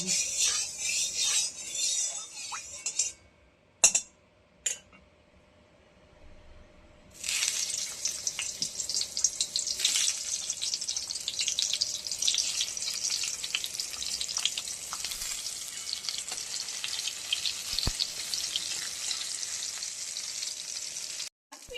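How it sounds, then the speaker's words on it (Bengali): Sliced pointed gourd fries in hot mustard oil, a loud, dense sizzle that drops out briefly, then returns strong and steady with occasional stirring clinks, and no talk. "পটল ভাজাটা আগে ভেজে নেব"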